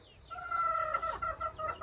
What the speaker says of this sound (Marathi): गावच्या ज्या कोंबड्या आहेत त्या पण तुम्हाला दाखवत